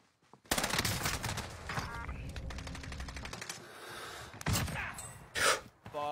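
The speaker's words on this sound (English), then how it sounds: "Dude got sniped up top, huh? I heard it." Gunfire in the Warzone battle royale shooter crackles loud and close, a sustained burst of rapid shots over roughly four seconds, followed by a sharp single report and a short gasp near the end.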